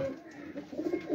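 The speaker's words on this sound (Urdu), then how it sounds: "یہ جی پروازی کبوتر ہے ماشاء اللہ پروازی سیٹ اپ" Pigeon cooing on a rooftop loft of flying pigeons, a few soft, throaty coos rising toward the end, close and moderately loud with no talk.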